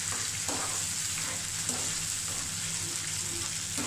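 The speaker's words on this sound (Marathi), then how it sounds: "आपण व्यवस्थित ह्या तेलामध्ये शिजवून घ्यायचे." Tomato and onion paste cooking in oil for vegetable kurma, a continuous bright sizzle holding level throughout, with faint occasional stirring taps and no voices.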